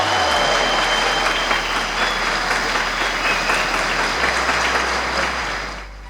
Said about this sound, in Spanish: Los 64 lo avalan y lo aplauden.